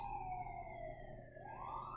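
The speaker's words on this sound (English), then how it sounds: "Excuse the sirens." A siren wails from a distance, its pitch sliding down and then rising again, faint over a low background hum.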